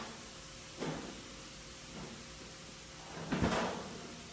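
Small countertop oven door clunking open and later shut, two brief knocks a few seconds apart against a steady low kitchen hum, no talking.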